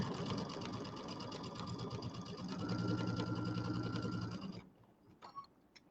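A sewing machine stitches quilting through a table topper, its fast steady needle chatter loud and close for over four seconds before stopping abruptly, followed by a few faint handling clicks.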